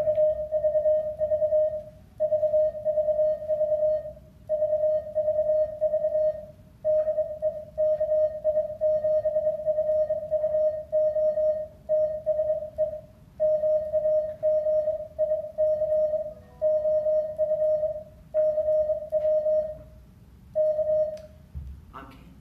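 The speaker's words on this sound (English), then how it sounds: "what you just heard was a little bit of magic that I like to call CW." Morse code CW from a ham radio beeps as a steady single tone in rapid keyed dots and dashes, moderately loud over a faint room hum and continuing for over twenty seconds with short pauses between groups.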